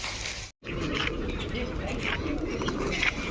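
Pigeons gather where grain is being scattered for them, soft cooing rising repeatedly from a nearby flock over a steady outdoor background after a brief cut at the start.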